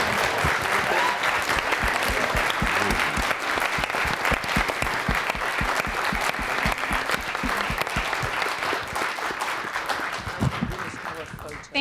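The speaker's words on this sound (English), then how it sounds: "Let's give a big round of applause to our panelists." A large audience applauds panelists at a community retrospective event, with steady, dense clapping that stays loud and continuous for about twelve seconds before tapering at the very end.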